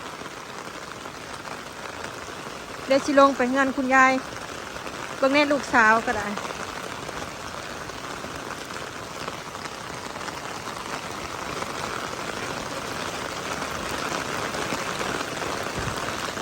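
Heavy storm rain pours in a steady, dense hiss from start to finish, with a voice talking briefly over it early on.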